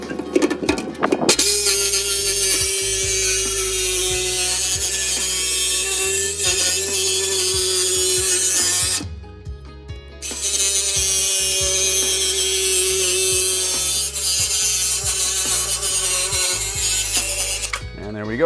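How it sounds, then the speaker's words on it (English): A power tool, likely a drill or cutting tool, bites into the metal bottom of a steel barrel while making a burn barrel, giving a loud, steady whine that runs for most of the clip with one brief pause and no talk. "ultimately we're going to drill a hole here, cut it out."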